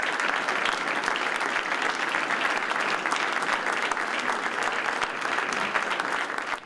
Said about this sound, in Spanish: Los aplausos resonaron en las paredes de un museo inaugurado por su padre.